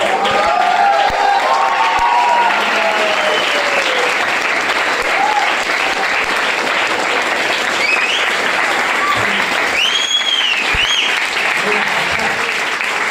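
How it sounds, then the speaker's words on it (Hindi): Sustained applause from an audience at a wellness product talk, a dense steady roar of many hands clapping throughout, with cheering voices and a few shouts rising over it. "अच्छा लगा कि आप लोग इसको सुन के ताली बजा रहे हो"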